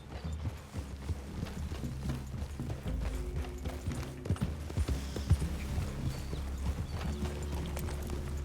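Horse hooves clip-clop softly in the Red Dead Redemption 2 video game, an uneven, continuous patter of several horses moving through a clearing, with faint creaks and low ambient game sound beneath.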